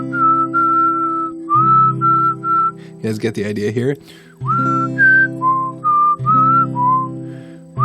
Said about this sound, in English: And I'm going to kind of whistle.